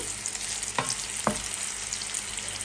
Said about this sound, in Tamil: இப்போ பொறிப்பட்டு வந்துட்டுது